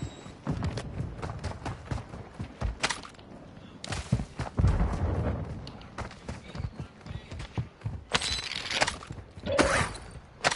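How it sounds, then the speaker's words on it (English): A Semtex grenade detonates in the Warzone video game battle, with sharp broadband blasts and crackling debris amid scattered gunfire, loud and close, repeating in bursts over a rumbling background. "Throwing Semtex!"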